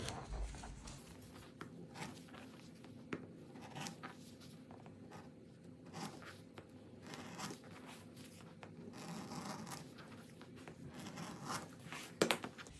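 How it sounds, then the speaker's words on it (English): Seam allowances on a sewn children's raincoat are trimmed with scissors: faint, irregular snips and fabric rustles, close by and quiet, with small sharper clicks near the end. "And now I'm going to trim my seam allowances."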